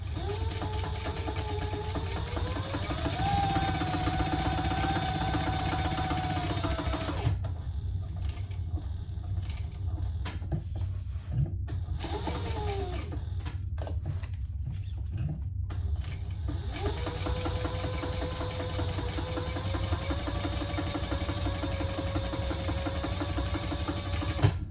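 A sewing machine runs a steady, close chain stitch, whirring continuously for several seconds. It pauses for a stretch in the middle with a few faint clicks, then resumes its steady hum.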